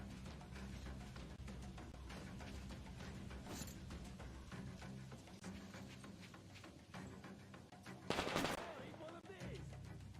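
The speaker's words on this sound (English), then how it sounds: "They're shooting at us, which means they probably can see us, right?" Enemy gunfire rings out in the video game Metro Exodus as faint, scattered shots under continuous game ambience, with one sharper, louder burst near the end.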